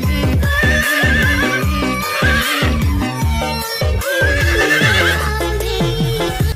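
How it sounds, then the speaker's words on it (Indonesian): A kuda renggong, the Sundanese dancing horse, neighs loudly and repeatedly. Shrill whinnies rise and fall close by over a dense layer of rhythmic low tones, with no talk. "Kalau ini nih kuda renggong."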